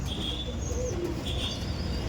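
Pigeons cooing softly with a few higher chirps over a steady background hum at a pigeon market, no one speaking.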